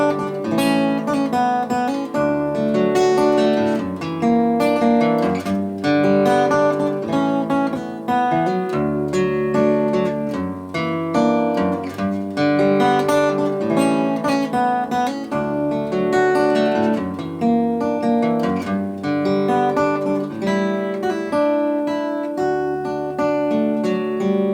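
Acoustic guitar strumming the chorus of a song, steady chords in a regular rhythm with a clear low bass line, close and full, played alone with no talking.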